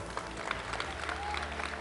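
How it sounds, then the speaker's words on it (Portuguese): A church congregation at a baptism service claps hands in a steady, dense wash of applause, moderately loud and continuous, with faint voices mixed in. "Quem entendeu, bata palmas e dá glória."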